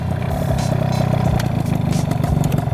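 Up close, a Yamaha Alfa II R two-stroke motorcycle engine idles with a rapid, even pulsing putter and a slight rattling clatter.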